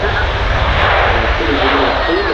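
A Boeing 737-800 lands with reverse thrust, a loud sustained jet roar and rushing broadband noise close by at the airport, with someone talking over it.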